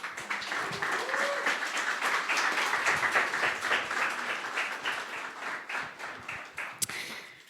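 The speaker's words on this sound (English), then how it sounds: "So a round of applause for our panel." An audience at a Silicon Valley season 6 premiere watch party gives a panel a full round of applause, dense clapping that swells and then gradually thins out, with some voices underneath.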